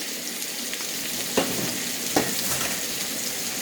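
About a pound of shrimp sizzles steadily in a pan for a Hawaiian shrimp taco recipe, a constant bright frying hiss broken by two brief utensil clicks, close and alone without talk.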